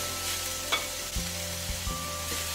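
Shrimp fried in a hot pan with peri-peri seasoning, stirred so a steady close sizzle is broken by a few scraping clatters of the utensil.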